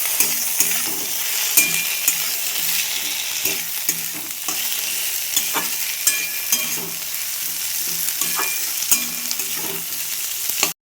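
Onion and chopped tomato fry in a pan as a spatula stirs them in regular scraping strokes and knocks against the metal, over a constant bright sizzle.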